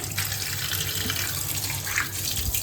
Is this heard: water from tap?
yes